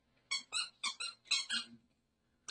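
Squeaky plush dog toy from a safari-themed subscription box, squeezed in a run of six quick, bright squeaks in two groups of three, close and fairly loud, then silence.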